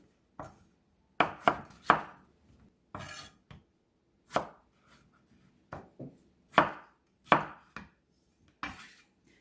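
Knife chopping medium potatoes into cubes on a cutting board for a spicy braised chicken dish, a series of sharp, close knocks in irregular bursts with short pauses between them, no talking.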